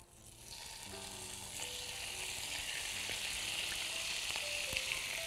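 Chicken pieces fry in oil in a hot pan, giving a steady, close sizzle that holds at an even level throughout, with faint clinks now and then and no talking.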